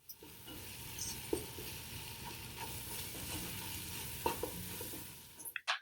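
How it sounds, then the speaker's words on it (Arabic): Steady sizzling from a pan with soft scraping and occasional clinks as garam masala and garlic-ginger paste are stirred, continuous and close, ending in a few sharper knocks. "وبنحرك لشي 5 دقايق"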